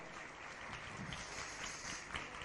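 Dense, continuous applause from a large crowd at an outdoor Jain puja ceremony for Acharya Vidyasagar at Chandragiri Tirth, Dongargarh, sustained evenly throughout without pause.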